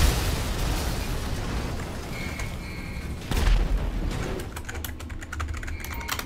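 Rocket explosions in GTA 5 Online: a heavy blast lands midway and sends out a loud boom, with a rumbling roar before it and rapid clicking keyboard typing following the impact.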